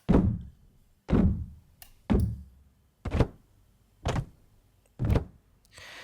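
Six heavy, booming stomps from layered stomp samples land about once a second, each a thick low thud with a short decay, sounding like several feet hitting together.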